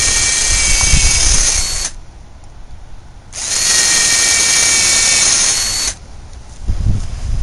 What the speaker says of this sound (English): I'm going to use a drill bit about half the diameter of the screws I'm using and create some pilot holes so we don't crack the wood.